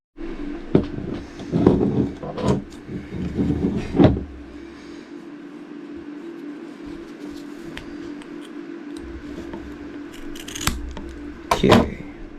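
Scissors snip through material for a homemade cyberpunk mask in several sharp crisp cuts, close and loud, with rustling handling and quieter pauses between bursts.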